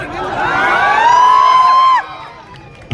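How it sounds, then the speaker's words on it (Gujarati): An outdoor crowd at a prize event lets out loud cheers and whoops with shouting voices, swelling for about two seconds before dropping off abruptly. "જોરદાર તાળી થઈ જાય એના માટે."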